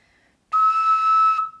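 A double chamber ocarina sounds a single sustained high E, a pure, steady whistle-like tone held for about a second, close and clear with no talk.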